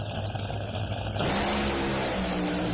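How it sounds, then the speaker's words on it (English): A Top Fuel dragster at an NHRA drag race in Bristol, its engine letting go during a run: a loud, continuous roaring engine blast with a sudden shift in character partway through. "another engine explosion for Hart down there"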